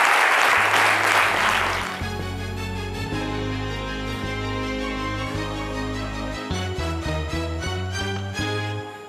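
A crowd at a 2019 event breaks into loud applause for about two seconds. The clapping fades as a steady musical accompaniment with a deep bass line starts and continues to the end.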